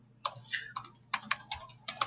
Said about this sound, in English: I'm going to go ahead and start typing in 40